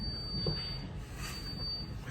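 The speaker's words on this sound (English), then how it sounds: "My bus is beeping." A thin, high electronic beep from a bus holds steadily over a low, continuous vehicle rumble, with a brief pause in the middle.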